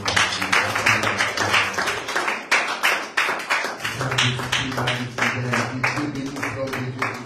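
A congregation applauds during a French-language church service, with dense, sustained clapping that swells and stays loud over several seconds, sung or spoken voices and sustained musical tones running underneath.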